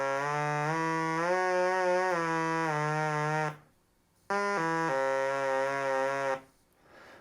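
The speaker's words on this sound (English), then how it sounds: "the Otamatone is just providing the raw oscillator tone that is also pitch controlled" An Otamatone played through its raw oscillator, pitch set by the touch sensor, gives a buzzy, nasal electronic tone in two long phrases with stepping and sliding pitch, broken by a brief silence.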